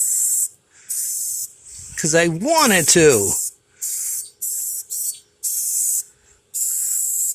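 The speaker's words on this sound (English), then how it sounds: "why are you spraying the tree black?" Aerosol can spraying black paint onto a tree in repeated hissing bursts of about half a second to a second each, close and loud, with a voice briefly speaking between sprays.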